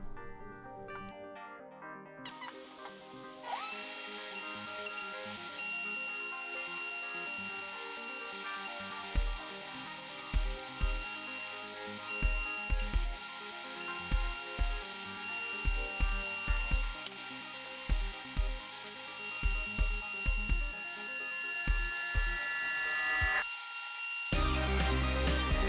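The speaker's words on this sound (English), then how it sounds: "I'm also using the router to cut a lip into the plywood." A router cuts a lip into a sheet of plywood, a steady high whine running almost the whole time with repeated short rhythmic ticks and bumps as the bit works along the edge, then stopping abruptly near the end.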